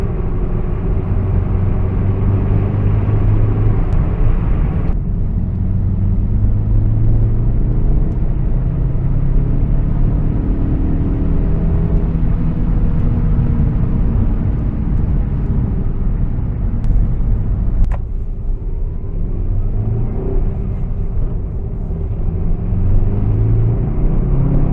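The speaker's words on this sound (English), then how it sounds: "That 15T turbo sure kicks in." Saab car engine fitted with a 15T turbo, a loud, deep, continuous rumble under acceleration with the tone swelling and shifting as the boost builds, heard up close with no talking.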